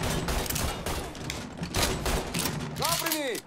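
Rifle fire in the video game Mafia 3, a run of rapid sharp shots in bursts mixed with game effects, dense and continuous, with a rising whistling tone near the end.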